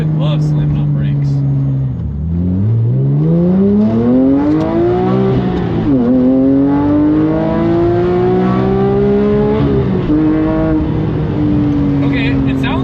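A Porsche GT3's engine and exhaust pull hard while driving, loud and close. The pitch climbs steadily through each gear and drops sharply at every upshift, with several shifts across a continuous roar.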